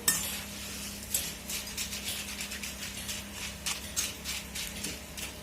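Jackfruit chips stirred in hot frying oil, a utensil scraping and clinking against the pan in a steady repeated rhythm over a constant low sizzle.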